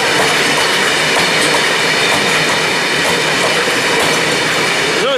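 A freight train passes close by at Dalmuir, loud continuous rumble with rhythmic clacking of wheels over the rails and occasional metallic squeal.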